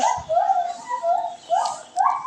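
Repeated high, wavering squeals from a young pig-tailed macaque at a zoo, several plaintive calls in a row, close and fairly loud.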